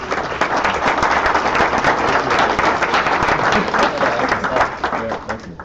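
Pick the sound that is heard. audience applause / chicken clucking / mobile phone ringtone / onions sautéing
audience applause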